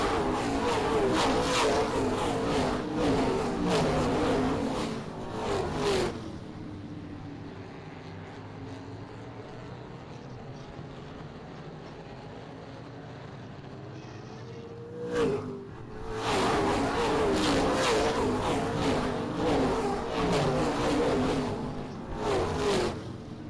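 Race cars roaring around the oval at Springport Motor Speedway, loud engine drone with revving passes, a quieter stretch mid-way, then the pack thunders close again; announcer talk may sit under it.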